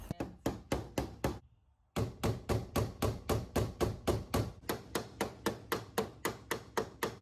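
Steady rhythmic hammering, sharp repeated blows in quick succession, with a brief pause before the strikes resume at an even pace.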